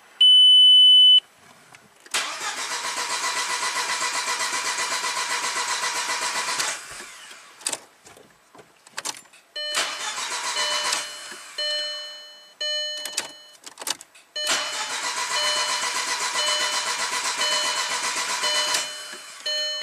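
A VW Passat with a camshaft position fault cranking over repeatedly in long bursts separated by pauses, the starter's whirring churn fairly close and steady, mixed with electronic beeps from diagnostic equipment.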